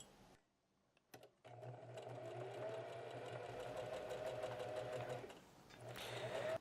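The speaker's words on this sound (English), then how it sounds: "we're gonna stitch at 3/8 of a seam allowance stitch all the way down using a straight stretch stitch" A sewing machine runs a straight stretch stitch along a hoodie seam, starting after a few clicks and humming steadily at close range with a fast rhythmic whir, pausing briefly, then starting again.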